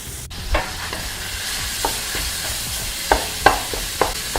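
Ground meat fries in a pan for a Filipino tortang talong filling with a steady low sizzle, while a spatula breaks it up and scrapes the pan in several distinct strokes, the sharpest and loudest near the end.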